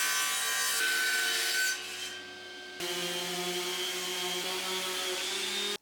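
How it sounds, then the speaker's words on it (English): Close, steady abrasive rubbing of a power sander on wood runs continuously with a brief dip in pitch partway through, loud and alone without speech. "I've sanded it all down."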